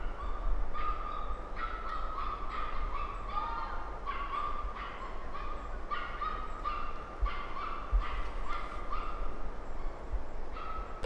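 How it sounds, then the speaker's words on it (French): Dogs bark repeatedly in the distance within a forest, a steady run of faint yelps behind a constant low background hum. "Je pense qu'il y avait comme 2 chiens."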